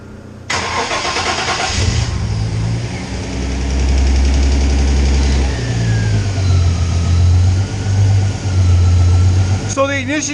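A twin-turbo MG Midget engine cranks and fires up, then runs with a rough, loud idle that rises and dips with throttle blips, heard close inside a garage with people talking nearby.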